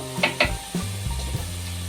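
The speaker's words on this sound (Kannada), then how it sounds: "ಈಗ ಈರುಳ್ಳಿ ಕೂಡ ಎರಡು ನಿಮಿಷ ಫ್ರೈ ಆಗಿದೆ" Onions fry in a pan for chana masala, a loud, steady close-up sizzle broken by a couple of sharp stirring clatters of a spoon against the pan near the start.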